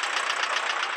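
Tractor engine running steadily while clearing slushy spring snow from a driveway in Alaska, a continuous close, loud rumbling drone with no talk.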